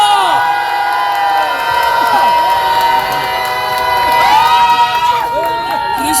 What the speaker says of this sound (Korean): 최재형 목사님을 여러분 큰 박수로 모시겠습니다.